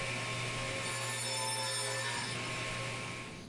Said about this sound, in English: taking them back to the table saw and cutting them out